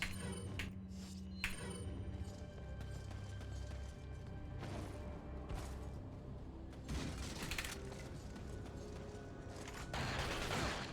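Gunshots in the game Resident Evil 4, quiet scattered shots and clinking mechanical clatter over a continuous low game background, with a few sharper reports spaced out across the stretch.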